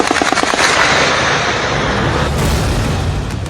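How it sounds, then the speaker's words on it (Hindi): Open gunfire during a protest near the Neelum Bridge area of Muzaffarabad, a dense burst of rapid cracks and bangs at the start giving way to a rumbling roar of continued shots and crowd noise. "मुजफ्फराबाद के नीलम ब्रिज इलाके में ओपन फायरिंग हुई।"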